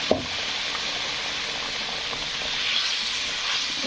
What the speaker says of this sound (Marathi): ही करपू नाही म्हणून थोडा मसाल्यात पाणी टाकून घेऊ आपण.